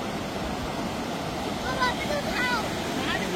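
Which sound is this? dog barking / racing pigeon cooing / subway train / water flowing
water flowing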